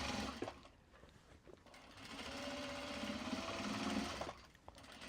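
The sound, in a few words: sewing machine running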